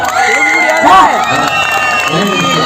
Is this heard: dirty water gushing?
no